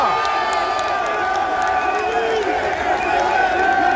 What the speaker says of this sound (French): Applaudissez encore plus fort pour lui